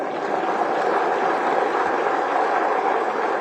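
Audience at a kavi sammelan poetry recital applauds in a dense, continuous wash of clapping, steady and broad with no breaks, heard from a distance.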